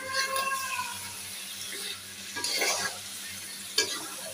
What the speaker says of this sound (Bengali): দেখো দেখো তরকারিটা কষিয়ে নিচ্ছি